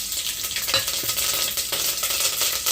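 Garlic and seeds sizzle in hot oil in a cooker, a steady dense crackle with a few sharper pops and stirring scrapes, close and fairly loud with no voices.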